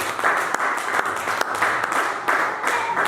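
A church congregation claps together in a loud, rhythmic burst of applause, steady and close, with a few voices mixed in.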